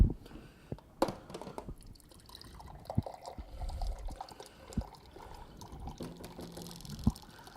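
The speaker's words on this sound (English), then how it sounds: "I'm gonna go to our water cooler." A water cooler fills a glass with water in uneven spurts: quiet trickling and pouring, with sharp drips, bubbling gulps and clicks spread through a soft background.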